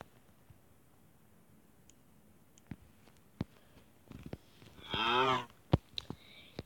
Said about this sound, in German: Die Kuh macht.